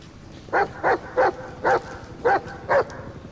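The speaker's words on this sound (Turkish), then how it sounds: "kurt havlıyor" A wolf barks six times in quick, evenly spaced bursts inside the Metal Gear Solid 5 video game, clear and fairly close over a low background hum.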